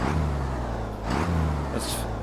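Truck engine with a turbo revving steadily from inside the cab, a low droning hum with slight swells, no talking over it.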